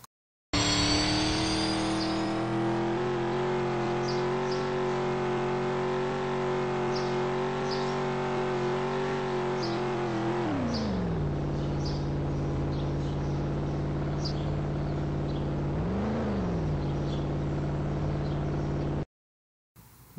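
Toy car engines whine and rev in a continuous buzzing drone that holds steady, then drops in pitch and briefly swells again, with faint chirps and squeaks scattered over it, close and loud.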